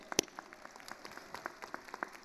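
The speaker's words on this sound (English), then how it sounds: "Another round of applause." Scattered, sparse clapping from a commencement audience at a December 2023 School of Social Work graduation, a few distinct sharp claps over a quiet room rather than full applause.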